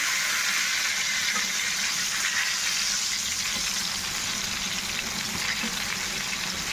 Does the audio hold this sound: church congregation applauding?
no